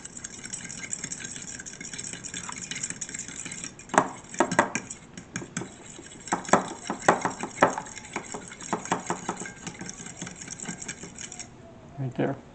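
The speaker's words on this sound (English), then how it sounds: "Then we'll mix it with a fork here." Eggs whisked with a fork against a bowl on a flat kitchen surface, rapid clicking scrapes in irregular bursts over a steady background hum, with a short quiet pause before the end.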